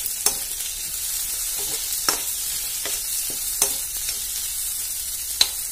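Pointed gourd curry cooks in a pan, giving a soft continuous sizzle punctuated by a few sharp spoon taps against the pan as it is stirred.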